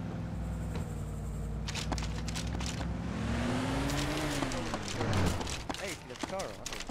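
A car engine drives in the ARMA 2 DayZ mod, a steady motor hum whose pitch climbs and then drops sharply as it revs, mixed with clattering game noise and possible voices.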